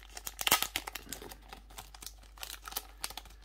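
Close-up crinkling and tearing of the thin plastic wrapper of a 1996 Japanese Pokemon sticker booster pack, a series of quick rustling rips and crackles, fairly quiet with no talking.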